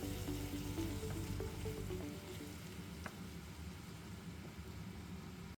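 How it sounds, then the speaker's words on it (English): Minced meat with tomato paste and canned tomatoes simmers gently in a pot over low heat, a soft continuous sizzle and bubble with a low steady hum underneath, quiet and even until it cuts off abruptly. "let the minced meat bubble gently for about 10 to 15"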